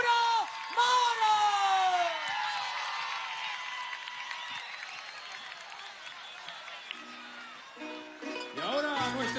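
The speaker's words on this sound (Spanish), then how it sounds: "Recibamos a nuestro presidente con una gran bulla de amor, con un gran aplauso." A rally crowd for Nicolás Maduro at a campaign event in Catia cheers, whoops and applauds loudly and steadily throughout, with a voice calling out over the noise at the start and near the end.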